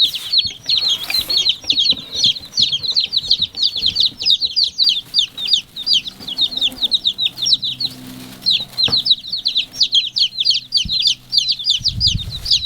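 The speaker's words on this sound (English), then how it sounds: "all 15 of the new chicks arrived alive and in good shape, and as you can see, they're in here drinking and eating and running around" Fifteen newly arrived baby chicks in a brooder give a steady, dense chorus of high peeping chirps, close and continuous, with faint rustling and low thumps underneath.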